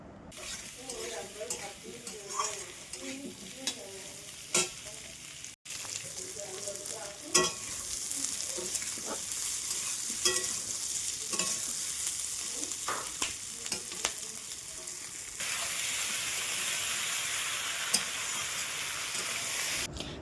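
Cut potatoes and eggplant frying in a pan for a jackfruit-seed and fish-head chorchori, with steady sizzling and repeated scraping stirs of a spatula, plus a sharp clack and a louder hiss toward the end; no talking.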